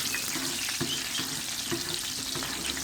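Garlic, ginger, cinnamon and onion sizzling in plenty of frying oil, a loud continuous hiss with regular scraping stirs roughly every half second, close up and without speech.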